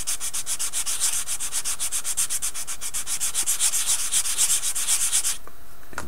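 Rhythmic back-and-forth sanding of a soft plastic part from a 1/35 scale Bronco armored car model kit, about thirty fast close scratchy strokes, then stopping abruptly near the end.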